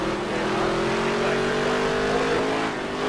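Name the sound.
stock car racing engines in NASCAR Heat 3 video game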